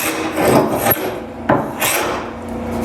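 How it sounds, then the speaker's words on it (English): A simple paint scraper strips dried glue from glued-up wood panels, giving rough, rasping strokes with several sharp scraping bursts, close and fairly loud with no talking. "I left some glue on a few of these panels just to show that a simple paint scraper can take off a lot of it"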